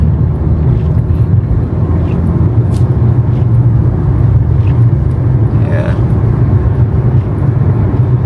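Car traffic rumbles steadily along a major road near a Tesla dealer and a Land Rover lot where cars are being unloaded, a loud, constant low drone mixed with wind buffeting and one brief spoken word.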